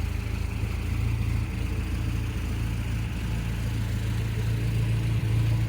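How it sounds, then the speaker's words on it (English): The A-series engine of a restored 1960 Austin Healey Frogeye Sprite runs with a steady, low, throbbing drone that stays even throughout, with no voices over it. "peppy A series engine"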